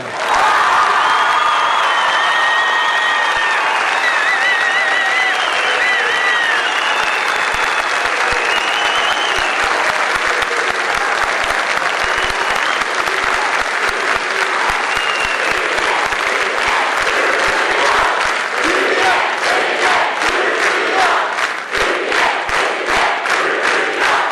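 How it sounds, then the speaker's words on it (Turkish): A large crowd bursts into loud, sustained applause and cheering after a religious slogan is shouted from the stage, with whoops and shouts at first and then settling into rhythmic unison clapping toward the end. "Çok yoğun bir alkış bekliyorum."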